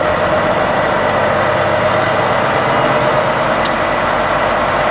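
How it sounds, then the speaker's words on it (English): A 2023 Volvo VNR truck's D13 engine ramping up RPM for a forced DPF regen, a loud, steady drone holding a constant roar without pauses or voices. "what you'll hear behind me is the truck starting to ramp up the RPM"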